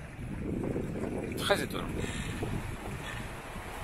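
Strong wind of 20–25 knots roars steadily past a sailboat off the northeast coast of Morocco, with waves rushing underneath, while someone speaks briefly.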